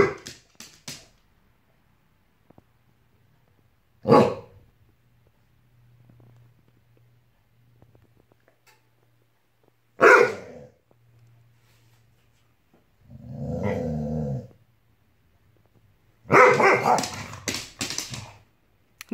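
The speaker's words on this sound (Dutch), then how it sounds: "Dan ga je blaffen en met je kluif in je bek." A dog holding a chew bone in its mouth gives scattered muffled barks and low grumbling whimpers, separated by long quiet gaps, close by with no talk.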